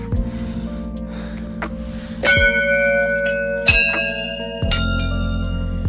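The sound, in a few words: temple bell being rung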